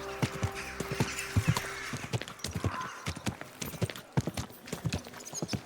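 Horse hooves clip-clop steadily at a walking pace in the video game Kingdom Come: Deliverance II, close and fairly loud, with a brief snort or whinny mixed in.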